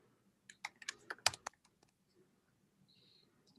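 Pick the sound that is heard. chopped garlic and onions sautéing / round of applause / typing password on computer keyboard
typing password on computer keyboard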